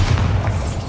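A deep, loud rumbling boom from a Bombarda spell explosion in Hogwarts Legacy, a single sustained heavy blast filling the brief moment.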